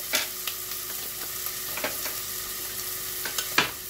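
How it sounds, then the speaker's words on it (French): Onions fry in very hot, smoking ghee with a steady sizzle, broken by several sharp scrapes and knocks of a spoon stirring the pan. "là vous laissez rissoler vos oignons"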